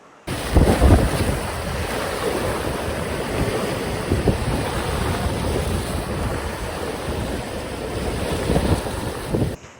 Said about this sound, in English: But you just gotta be careful with the swell here.